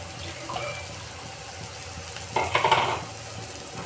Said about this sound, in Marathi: तर हे 1 मिनटं छान असं परतून घेऊ